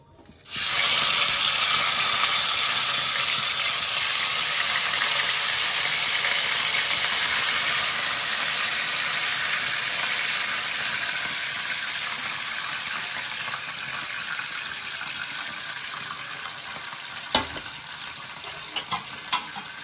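Marinated yogurt chicken sizzles loudly and steadily in a hot wok, a dense continuous frying hiss that starts abruptly as the meat goes in and holds for the full stretch, with a few faint stirring clinks near the end.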